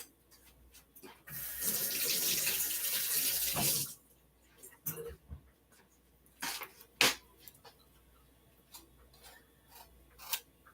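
Tap water runs steadily into a kitchen sink for about three seconds as a mango is rinsed, followed by scattered clicks, knocks and handling sounds.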